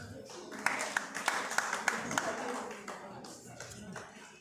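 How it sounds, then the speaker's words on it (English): A scattered crowd claps in uneven, quick bursts at an end-of-year party, fairly faint and distant, with talking blended underneath. "Charity Markov Funaya, please clap for her."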